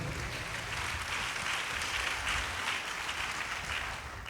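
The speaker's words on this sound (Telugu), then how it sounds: "చప్పట్లు కొట్టి గట్టిగా దేవుడు మహిమపరుద్దాం" Congregation clapping together in a church service, a steady broadband wash of applause at moderate distance, sustained evenly for several seconds with no voices on top.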